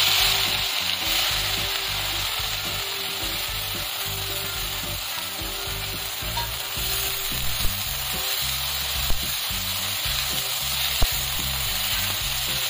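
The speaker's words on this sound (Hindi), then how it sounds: "इसके बाद इसमें डाल देते हैं ये प्याज अदरक लहसुन मिर्च जो हमने काटी है, इसको इसमें डाल देते हैं।" Chopped onion, ginger, garlic and chili frying in hot oil in a pan, a dense continuous sizzle with occasional stirring scrapes and small pops, close and steady with no voices.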